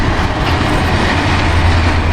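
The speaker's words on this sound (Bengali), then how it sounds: "ওই যে ট্রেন যাইতেছে," A train passes by, a loud steady rumble of carriages with rhythmic clickety-clack from the wheels, close and continuous with no talk.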